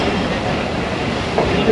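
A National Logistics Cell GMU30 diesel locomotive on Pakistan's main line, a steady loud rumble of rolling train noise with wheel clatter throughout the short stretch, no clear talking.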